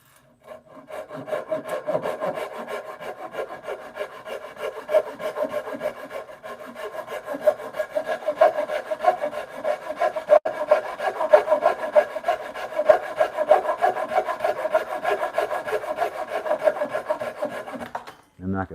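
A handsaw cuts steadily through wood for a bunk bed rail mortise and tenon, with continuous close rasping strokes that carry on for many seconds without pause.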